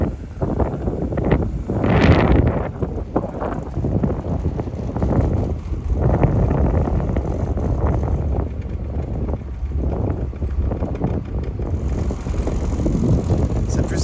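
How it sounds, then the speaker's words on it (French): Gusty wind buffets the microphone outdoors on a boat, a steady low roar with stronger blasts, mixed with voices talking over it. "je fais barrage de mon corps pour vous cacher du vent"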